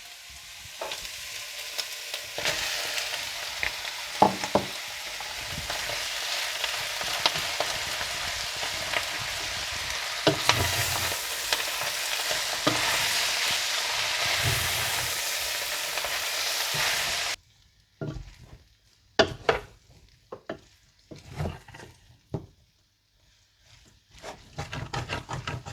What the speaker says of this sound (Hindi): और इसके बाद राइस स्टिक नूडल्स डालकर मिला लें।